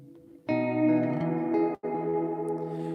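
Spooky, ghost-like resonant tone from an Empress ZOIA modular effects pedal, a sustained chorus-laden drone with ringing harmonics that swells in, briefly cuts out, then resumes steadily.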